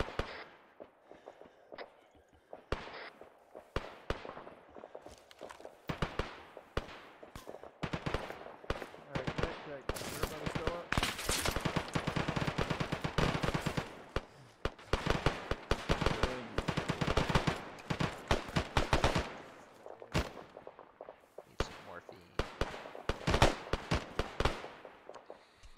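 Rapid gunfire fills an ARMA firefight, bursts of automatic and single shots crackling in dense irregular clusters, swelling into a sustained barrage before thinning out again, with faint radio-style voices in between.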